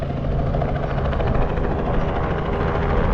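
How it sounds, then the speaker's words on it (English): A helicopter at a riverside helipad on the Mississippi River in St. Louis gives a loud, steady rotor roar with a rapid thudding pulse, close by and constant throughout. "you see that helicopter just flew in and landed on the helipad"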